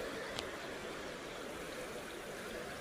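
Shallow creek in the Coosa County, Alabama wilderness flowing steadily, a faint continuous wash of running water with no voices.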